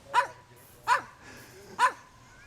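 A dog barks three times at a steady pace, moderately near, in an old garage with a hoard of Ford pickup trucks; the barks stand alone over a quiet background hum.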